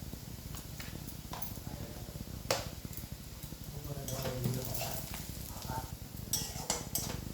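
Chopped onions sizzle steadily in a pan with grated ginger and salt, a continuous close crackling fry broken by a few scraping stirs and clinks of a spatula against the pan.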